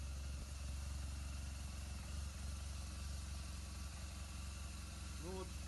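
A 2007 BMW R1200GS motorcycle idles steadily while warming up, a continuous low engine drone with constant vibration, close by and even in level throughout, with a voice talking over it.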